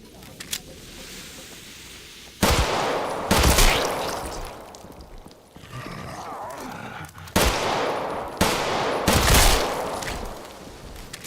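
Video game gunfire cracks out in loud bursts, several heavy shots and short volleys spaced a second or two apart, close and dominant, with a player's voice heard only briefly between them.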